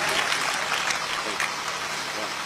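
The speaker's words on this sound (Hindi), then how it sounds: "जोरदार तालियां बजती रहनी चाहिए" Crowd applause, a dense patter of many hands clapping continuously at moderate volume.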